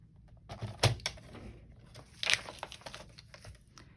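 Paper is cut and crumpled for a train-themed journal, with two sharp crinkling crunches and softer rustles between them, close and fairly quiet.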